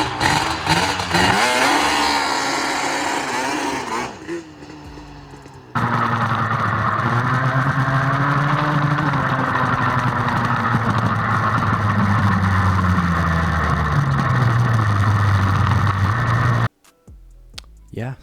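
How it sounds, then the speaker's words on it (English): Yamaha Banshee ATV engine revving hard through a quick burnout, a loud continuous high-pitched roar with rising and falling pitch that cuts off abruptly near the end, followed by a brief quieter burst. "me having fun doing a quick burnout"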